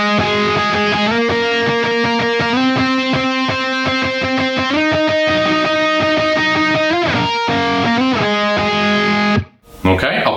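Distorted electric guitar plays a rising octave melody, sustained notes stepping upward at a loud, steady level before cutting off abruptly near the end.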